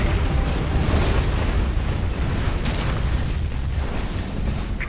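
Battleship offshore artillery in Command & Conquer Generals Zero Hour, a loud continuous rumbling roar of explosions with dense low booming that stays heavy and unbroken for several seconds.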